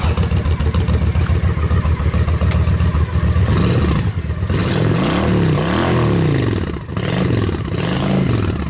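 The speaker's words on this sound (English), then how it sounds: "Let's see if she's warmed up enough to crack the throttle." A Honda Shadow Spirit VT750 (VT750DC) V-twin motorcycle, recently fitted with a new fuel pump, idles loudly up close before the throttle is cracked, sending the engine through several rising and falling revs in close succession.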